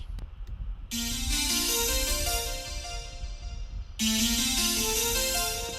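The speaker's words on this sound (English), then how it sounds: "this one, this sort of light blue turquoisey color, is a different synth, and it's called a Berlin lead" A bright Berlin lead synth in a Mozart-inspired synthpop track plays slow broken-chord arpeggios, sustained and shimmering, with a fresh swell partway through, loud and alone without talking.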